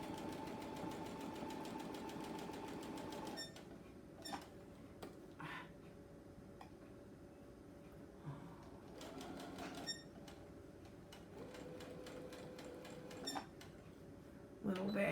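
A domestic sewing machine stitches a quilt square in steady whirring runs, with pauses between bursts and a faint ticking throughout, while a person talks quietly over it.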